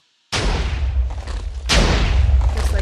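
Two heavy TNT blasts from a Minecraft cannon boom out in quick succession, each a sudden loud burst with a long rumbling tail, the second arriving about a second and a half after the first.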